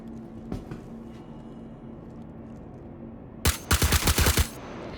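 Gunfire in the video game Star Citizen: after a quiet stretch with one faint early shot, a loud burst of about eight rapid shots hits close up.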